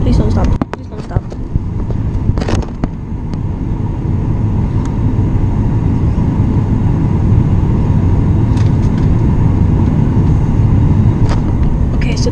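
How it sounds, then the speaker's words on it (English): Steady loud engine rumble and roar from a Southwest airliner landing while a plane taxis toward the runway, heard from nearby with a constant droning hum throughout. "so there's this Southwest plane landing, and I think we're right after that Southwest plane"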